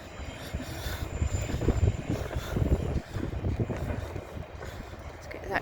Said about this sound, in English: Let's get that train in if I can